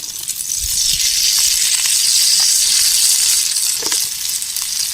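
Chilapi (tilapia) fish frying in hot oil outdoors, a steady loud sizzle and crackle close up, rising after a soft start and holding through with occasional pops.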